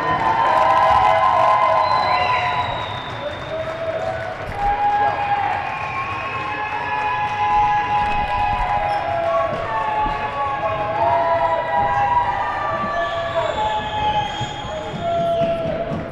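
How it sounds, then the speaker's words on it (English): A gym crowd at the MAPL basketball championships cheers and applauds loudly for the runners-up, Lawrenceville Big Red. The roar rises and falls with shouts and whistles, and voices sound over it. "we need to give a big round of applause for our runners-up, Lawrenceville Big Red"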